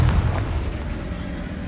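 A Confringo fire spell blast in Hogwarts Legacy, a deep booming explosion with heavy low rumble at the onset that fades out over under two seconds.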